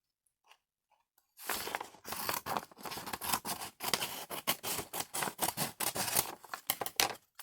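Scissors cut along the seam of a paper bag, beginning after a brief quiet with rapid, crisp snips and crunching paper that run close and loud in an uneven rhythm, with no voices.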